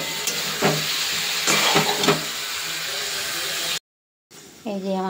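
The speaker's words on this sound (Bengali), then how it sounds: "আমি ভেজে নেবো একটু ভালো করে" Garlic frying in oil in a pan, with a steady sizzle and hiss and occasional stirring scrapes. Someone talks over the cooking. The sizzle cuts out briefly near the end, and then her voice returns.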